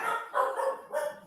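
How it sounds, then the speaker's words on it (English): Several dogs barking in short, excited bursts, about three clustered outbursts heard fairly close with no talking over them. "Dogs are going crazy."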